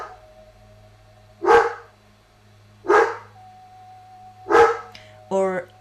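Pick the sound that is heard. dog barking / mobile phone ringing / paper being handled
dog barking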